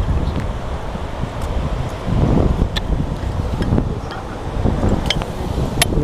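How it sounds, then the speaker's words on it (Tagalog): Wind blows outdoors near rocks, buffeting the microphone as a steady rushing roar with gusts that swell and ease, while faint rustling runs beneath. "Mahangin na dito."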